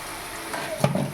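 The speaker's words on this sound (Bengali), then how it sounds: "আলুগুলো প্রায় লাল লাল করে ভাজা হয়ে গেছে" Potatoes frying in oil for a curry, a low steady sizzle with a short scrape or stir near the end, close and moderately loud.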